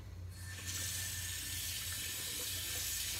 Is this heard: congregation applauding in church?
no